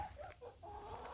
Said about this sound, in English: The chickens are not happy.